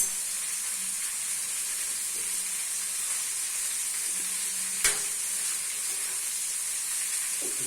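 Patties frying in a pan give a steady, close sizzle with hiss that runs unbroken throughout, marked by one brief sharp tap partway through, and no talking.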